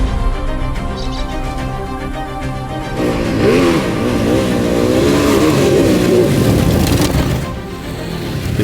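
A Ducati DesertX motorcycle engine revs up and down while riding through trees, loud and close, with rising and falling pitch swells in the middle before settling back to a steady drone.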